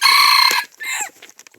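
A rooster crows loudly and close by for about half a second, then a second, shorter crow follows before the clip tails off into faint farmyard clucks from chickens.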